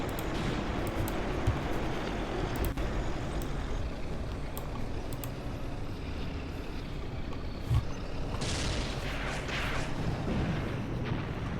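Artillery and gunfire in Graviteam Tactics: Mius Front, a constant low rumble of battle with dull thuds and occasional sharper bursts. Steady and fairly loud throughout, with no voices.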